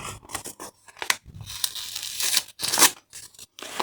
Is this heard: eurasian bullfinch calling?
no